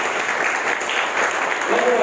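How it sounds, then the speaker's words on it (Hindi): A large audience claps loudly and continuously at a leadership event, a dense, even wash of applause heard close and sustained for the whole moment, with no voice over it. "मैं चाहता हूँ अब एक दफा फिर से जोरदार ताली आप सबों के लिए बजाएं।"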